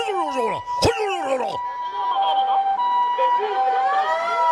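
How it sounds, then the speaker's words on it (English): An ambulance siren wails close by, its pitch sliding in repeated sweeps, then settles into a steady two-tone wail with traffic noise underneath. "here comes the ambulance"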